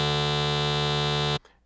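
A steady, buzzy synthesizer lead tone with no frequency modulation, made in Serum, holds at one pitch for over a second, then stops abruptly, leaving a faint tail.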